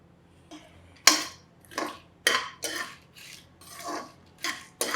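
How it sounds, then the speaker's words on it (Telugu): Cashews rattle into a pan to fry for millet sambar rice, giving a string of about seven sharp clattering scrapes and clinks at an uneven pace, close and fairly loud, with no talk. "ఓకే, ఫస్ట్ కాజు వేద్దాం, ఎందుకంటే కొంచెం బ్రౌనిష్గా వేగుతుంది కాజు."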